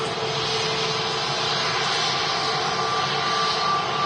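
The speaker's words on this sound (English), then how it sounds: "this easyJet Europe A320 Neo from Milan today, arriving here at Manchester Airport" An easyJet Europe Airbus A320neo arriving at Manchester Airport from Milan produces a steady, fairly loud jet engine roar with a faint tonal whine, continuous throughout the short stretch.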